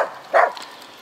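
A dog on a remote taiga homestead in the Komi region gives one short, fairly faint bark, heard from a distance with no talk over it, and then fades into quiet.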